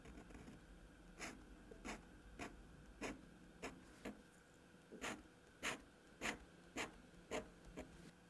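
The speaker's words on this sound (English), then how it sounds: "So I do want to write a bit more with it, so we'll use some nice paper." A Pilot Kakuno fountain pen writes on smooth paper, making soft, close scratchy strokes in an irregular rhythm of about a dozen short bursts, quiet and alone with no talk.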